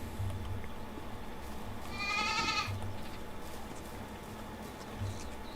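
Goats bleat once in a single wavering cry over a steady background hum and patter in the medieval farming game Medieval Dynasty.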